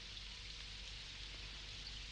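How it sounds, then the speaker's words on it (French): Steady rain falls in an animated series, a continuous even hiss of drops with no other sound over it. "Il s'est mis à pleuvoir tout d'un coup."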